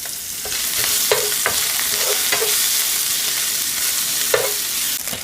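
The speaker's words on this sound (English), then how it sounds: "We are going to start with our bacon." Bacon frying in a pan gives a dense, constant sizzle and crackle, broken by a few short scrapes and taps from stirring, with no voices.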